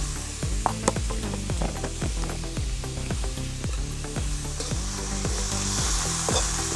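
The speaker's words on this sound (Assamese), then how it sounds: "ভালকৈ লৰাই লৈছো মই।" Fish curry with turmeric stirred in a frying pan, a steady sizzle under repeated rhythmic scrapes of the spoon against the pan, close and even throughout.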